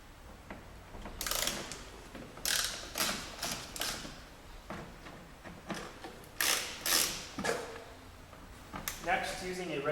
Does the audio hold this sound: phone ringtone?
no